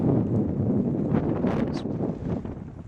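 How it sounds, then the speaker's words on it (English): Strong wind gusts buffet the microphone with a deep, rumbling roar at a harbour on a sailing trip from Sardinia to Menorca, swelling and easing over a few seconds. "It's windy as heck again"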